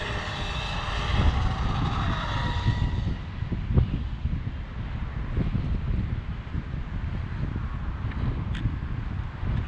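An Arrma Kraton 8s RC car on a 23-tooth pinion at full throttle produces a loud, rising high-pitched electric whine that fades into rough wind and rumble as it speeds away outdoors.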